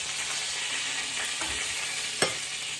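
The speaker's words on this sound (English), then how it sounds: "I'm just gonna wait for that water to boil and the chicken to cook" Chicken frying in a pan of grease while baked penne is being made, a steady close sizzle running the whole time with a soft knock partway through and a brief sharp clatter near the end.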